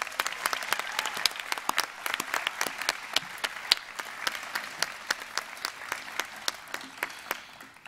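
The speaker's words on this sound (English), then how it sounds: "Can we give all of these people a round of applause?" Audience applause at a school commencement ceremony: dense, steady clapping from a crowd, moderately near, sustained for the full stretch without talk.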